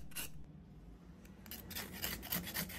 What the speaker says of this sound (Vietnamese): Mình sẽ cạo cái vỏ lụa bên ngoài.